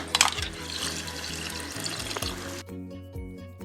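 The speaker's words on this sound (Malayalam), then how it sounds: "നമുക്ക് വെള്ളം ഒഴിച്ചു കൊടുക്കാം" Water is poured into a mixer jar while making a prawn theeyal gravy, a close, continuous splashing trickle that stops abruptly near the end.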